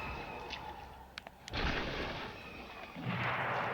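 Blaster shots fired in Lego Star Wars: The Force Awakens, a few sharp bursts over a steady game soundscape, with louder blasts around the middle and end.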